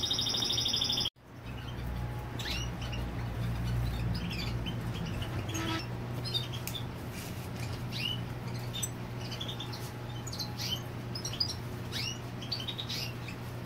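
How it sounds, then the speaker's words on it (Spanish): Himalayan goldfinches and other goldfinches chirping after being released, with short, high, scattered tweets over steady low background hum, moderately near and continuing throughout after a brief dropout at the start. "Vamos a soltar a los pájaros y seguimos hablando."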